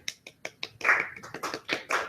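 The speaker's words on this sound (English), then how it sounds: "Slow clap." A handful of slow, evenly spaced claps from one person open the moment, then the sound breaks into a brief flurry of quicker taps and claps, close and fairly quiet.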